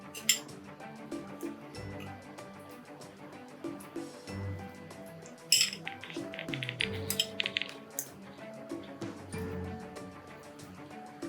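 Soft clinks and wet squishes of a spoon scooping chickpea chole onto a broken hot samosa in a bowl for samosa chaat, with scattered small taps of metal against the dish, faint and close.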